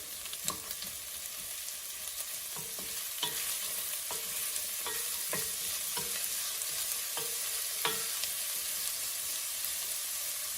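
Red onion sautés in a pan on medium heat, a steady close sizzle broken by regular soft stirring taps and scrapes, with no one speaking.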